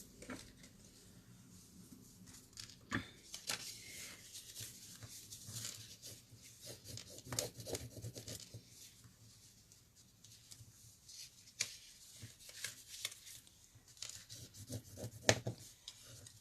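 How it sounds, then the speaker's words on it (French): Folds are creased into cut paper pieces for a small Easter basket, producing faint, intermittent rubbing and scraping strokes with light taps, close and quiet throughout. "Je vais marquer mes plis."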